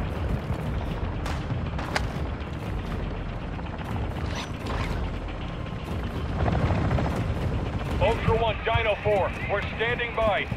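In the video game DMZ, a helicopter approaches the landing zone with a loud, continuous rotor rumble and mechanical clatter. Voices talk over it.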